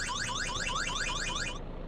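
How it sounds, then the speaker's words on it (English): A rapidly warbling electronic alarm goes off in the horror video game VEIN, sweeping up and down in a fast, loud, repeating pattern that cuts off near the end. "So the alarm's right there under the clock."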